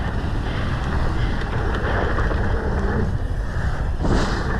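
Strong wind roaring across the microphone while skiing a freeride run at Park City, a loud, continuous rushing buffet that swells near the end.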